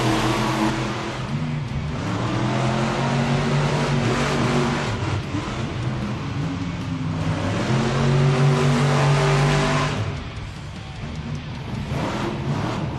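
Monster trucks racing head to head in an indoor arena at a Monster Jam event in Tucson, engines roaring and revving continuously with rising and falling pitch, loud and sustained over crowd ambience.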